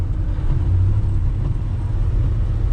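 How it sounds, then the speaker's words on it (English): A 1976 Ford F150 pickup with a 390 V8, four-speed manual and four-wheel drive, rumbling steadily from inside the cab as it drives, with a constant low engine drone and no talk. "This is 76 F150. It has a 390 in it with a 4-speed manual transmission and 4-wheel drive."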